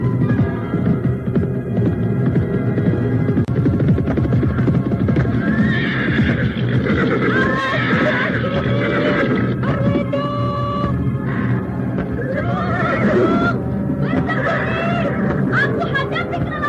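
A horse in an Indonesian radio drama, ridden into the scene, neighs and whinnies loudly and repeatedly, with clip-clop hoofbeats and a dense, busy backdrop running throughout.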